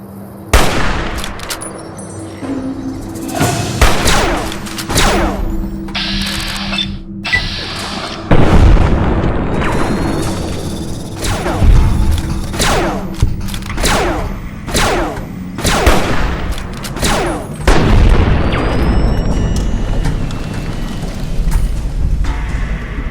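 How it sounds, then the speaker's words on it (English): Grenade blasts and gunfire in the game Fallout New Vegas, heavy booms and sharp cracks going off repeatedly across the whole stretch, loud and close in a dense, continuous firefight. "Grenade!"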